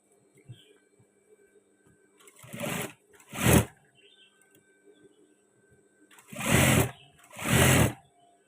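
Sewing machine stitching a men's batik shirt: four short bursts of rapid mechanical whirring, the first two separated by a pause and the last two close together, with quiet handling sounds between.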